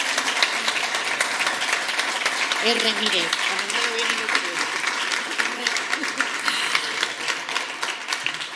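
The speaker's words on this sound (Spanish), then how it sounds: "Un fuerte aplauso para todos ellos, por favor" A business breakfast audience applauds steadily for over eight seconds, a dense, even wash of clapping with a voice speaking briefly through it.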